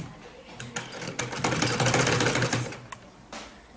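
Sewing machine double-stitching the seam of a fabric sleeve, a close rapid mechanical rattle that starts, runs in a steady burst for a couple of seconds, then stops with brief trailing clicks.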